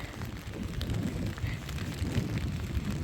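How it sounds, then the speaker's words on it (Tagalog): Strong wind gusting through rain outdoors, a steady broad rushing roar with low buffeting rumble, close and continuous with no voices. "yan narinig yung sobrang mahangin"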